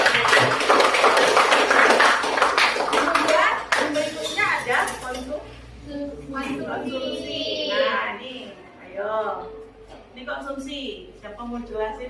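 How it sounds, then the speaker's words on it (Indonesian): A class applauds in a classroom economics lesson: dense, loud clapping for about five seconds, then fading as voices begin talking. "Oke, beri aplaus untuk"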